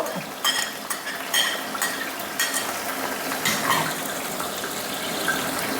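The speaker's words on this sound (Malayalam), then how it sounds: "വെളുത്തുള്ളി ഇട്ട് കൊടുത്തു പച്ചമുളക് ഇട്ട് കൊടുത്തു" Garlic and green chillies fry in hot oil for lemon pickle, a continuous loud sizzle broken by light stirring scrapes, close up with no voices.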